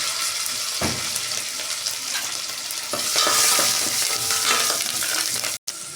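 Mustard seeds and cumin crackle and sizzle in hot oil alongside garlic for a dal, a continuous close frying hiss with scattered pops and stirring clinks, briefly cutting out near the end.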